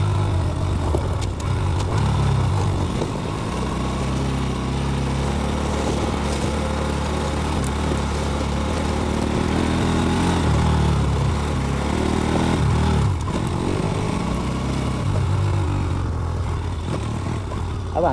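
A motorcycle engine runs steadily for about eighteen seconds on a ride toward Bisanpur park, a loud, continuous drone with slight shifts in pitch and some light mechanical clatter, heard alone without talk.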